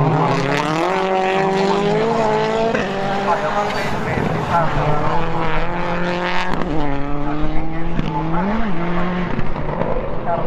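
Expensive rallycross cars race hard in the Härmä finals, engines revving and shifting loudly and continuously, with a voice talking over them.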